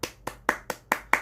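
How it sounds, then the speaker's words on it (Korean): Six sharp hand claps in a steady, even rhythm, close and fairly loud, with no one speaking. "박수."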